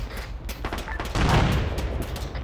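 Video game gunshots in a military squad shooter, a rapid string of sharp cracks building into a louder sustained burst mid-way, close and punchy, then tapering into scattered shots.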